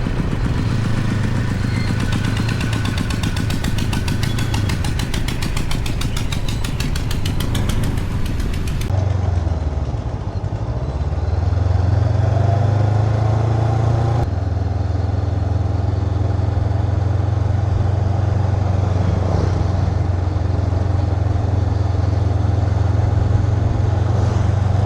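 A motorcycle or motor scooter rides along rural Thailand roads, its engine droning steadily and close, dropping briefly as it slows around the ten-second mark and then pulling back up to a throaty, sustained hum.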